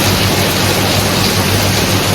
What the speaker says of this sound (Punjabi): ਜ਼ਬਰਦਸਤ ਮੀਂਹ ਪੈ ਰਿਹਾ